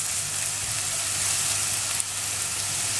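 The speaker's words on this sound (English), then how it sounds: "add our chopped onions and garlic. Fry it till transparent" Chopped onions and garlic frying in olive oil for a creamy pasta, giving a steady, even sizzle close by with no talking.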